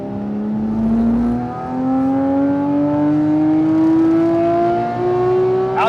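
A Porsche 997.2 GT3 RS with its 3.8L engine revs to redline on a track, a loud, continuous rising wail climbing steadily in pitch through the gear, close and alone.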